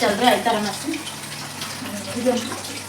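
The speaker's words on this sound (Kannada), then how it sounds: "ಈಗ ನೀರು ಬಂದ ನೋಡ್ರಿ ನಮ್ಮ ಮನೀಗ ನೀರು ತುಂಬಿಸಕ್ತಾರ" Water runs steadily from a tap into household containers during Dasara festival preparations, a continuous gushing splash heard close by with people talking over it.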